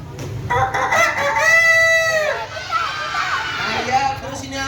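A rooster crows once, a clear, rising and falling cock-a-doodle-doo in the foreground, with children's voices and chatter around it.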